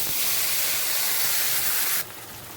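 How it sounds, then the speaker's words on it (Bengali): Ground spice paste hitting hot oil in a Bengali home kitchen gives a loud, close, steady sizzling hiss that drops to a softer crackle after about two seconds. "এবার তেলের ভিতর মশলাগুলো আমি দিয়ে দেবো।"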